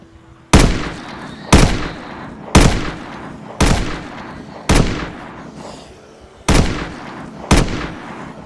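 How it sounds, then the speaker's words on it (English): Eight sharp gunshots from a firearm in the Project Zomboid zombie survival game at Raven Creek church, fired at a steady rhythm about one per second, each loud crack trailing into a short decaying echo, with no talk over them. "Wasted shot"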